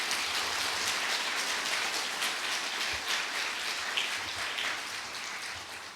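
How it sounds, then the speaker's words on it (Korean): At a university president's farewell ceremony, an audience gives a sustained, even round of applause for hospital directors and staff, a dense hiss-like wash of clapping without speech, fading gently near the end. "큰 박수를 한번 보내드리고 싶습니다"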